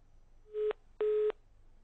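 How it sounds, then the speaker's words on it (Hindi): Two short electronic tones, the second slightly longer, sound over quiet line hiss as a phone line disconnects during a live call-in broadcast. "फोन लाइन डिस्कनेक्ट हो गई है"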